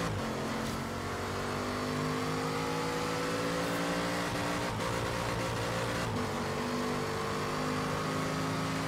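An engine revs hard and steadily in Forza Horizon 3 with a manual gearbox, the pitch climbing and then stepping down at two gear changes, loud and continuous with no voices.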